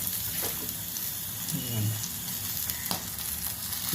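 Pointed gourd fries in a pan with a continuous hissing sizzle and occasional spatula taps, close and steady, with a brief faint murmur of a voice in the background.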